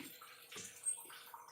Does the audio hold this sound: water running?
yes